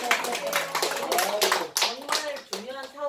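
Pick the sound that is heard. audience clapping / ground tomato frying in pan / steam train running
audience clapping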